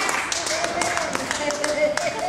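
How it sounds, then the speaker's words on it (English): Applause from a church congregation during a sermon by a preacher, a steady wash of many hands clapping with a few sharper claps, heard alongside voices for a couple of seconds. "Give yourselves a round of applause."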